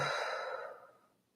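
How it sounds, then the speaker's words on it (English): A person lets out a deep, slow breath during a guided breathing exercise, a single long airy exhale heard up close that fades gradually to quiet. "and breathing out"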